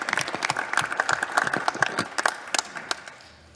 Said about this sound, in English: And they're all clapping.